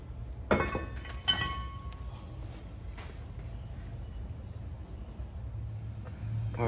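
Metal brake rotor on a 2016 Hyundai Sonata being wiggled off the wheel hub, giving two sharp metallic clinks early on, then faint scraping and quiet handling noise.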